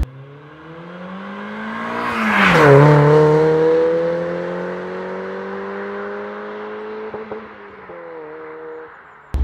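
A Mk1 Mazda MX-5 with an off-the-shelf aftermarket exhaust revs up to a loud peak, then settles into a steady droning hum with a couple of brief blips, heard alone and close.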